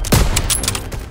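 Gunfire in Call of Duty WW2, a sharp loud shot followed by a quick cluster of cracking reports within about a second, close and prominent.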